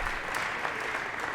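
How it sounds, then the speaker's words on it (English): Audience applause fills a Kentucky Aviation Hall of Fame ceremony hall, a steady, dense wash of clapping from a sizable crowd, continuous and fairly loud throughout. "Go ahead and clap."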